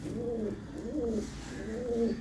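An old pure white pigeon with a black tail coos close by, three soft rolling coos in a steady rhythm, with no other sounds over them.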